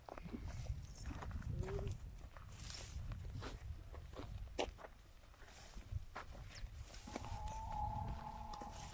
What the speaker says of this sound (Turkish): Benim karatay doğum yapmış. Bir tane dişi tay getirmiş.